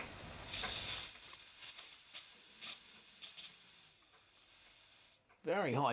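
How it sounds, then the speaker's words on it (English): A tiny steam whistle on a Josef Falk vertical boiler model steam engine shrieks at a very high, steady pitch, close up and loud, dips briefly, sounds again, then stops before a voice speaks. "See if we can get the whistle working now."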